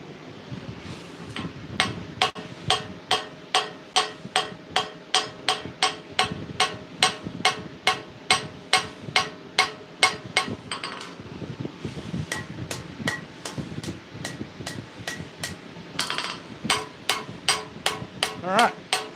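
Steady, ringing hammer blows strike an anvil while a sickle is forged, keeping an even rhythm for most of the stretch with a brief break partway, close and loud over faint wind.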